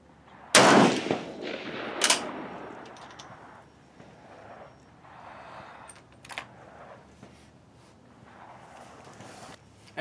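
A K31 rifle fires at an outdoor shooting range: two sharp, loud shots about a second and a half apart, each trailing off in a long echo, then quieter scattered knocks and handling sounds.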